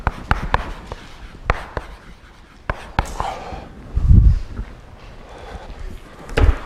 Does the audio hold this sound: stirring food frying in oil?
no